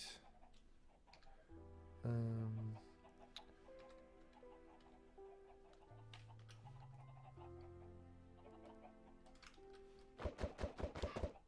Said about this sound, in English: Get some actual chickens up here first.